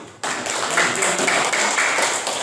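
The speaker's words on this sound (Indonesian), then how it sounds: "Tepuk tangan dulu untuk teman kita Putri" Applause from a classroom of students cheering a classmate, a dense burst of clapping that starts abruptly and stays steady and fairly loud throughout.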